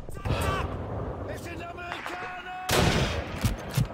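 Call of Duty 2 gunfire: loud, rapid shots and bursts in a steady battle din, swelling to a heavier volley toward the end, mixed with voices.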